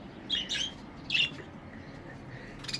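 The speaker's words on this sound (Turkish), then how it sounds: "Şimdi gidelim arkadaşlar kuşlarımızı gösterelim." Pet budgerigars near their nesting boxes give a few short, bright chirps in two quick bursts, then another faint call at the end, against a quiet indoor background.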